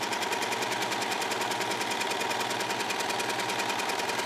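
A serger runs steadily through tulle fabric, gathering it in one pass; a continuous, rapid mechanical whir with fast, even stitching pulses, close and unbroken, with no talking.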